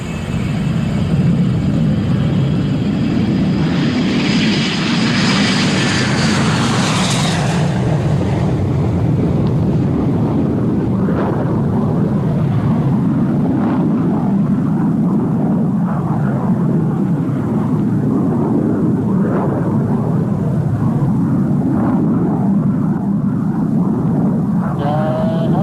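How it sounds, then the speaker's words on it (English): An Avro Arrow CF-105 delta-wing jet interceptor roars loudly as it starts its takeoff run, a sustained heavy rumble with a rising high whine early on, mixed with wind buffeting, throughout. "pressed open the throttles, and released the brakes. The Arrow was ready for takeoff."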